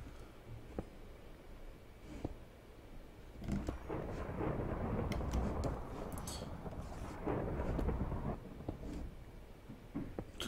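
Thunderstorm ambience in the video game Die Insel 2: a steady rain-like wash with deep, low rumbles of thunder swelling and fading, with no talking.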